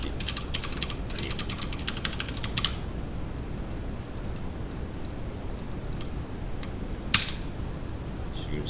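Computer keys tapped in quick bursts, a rapid cluster of clicks early on, then sparse single presses and one sharp louder keystroke later, close up over a faint steady room hiss.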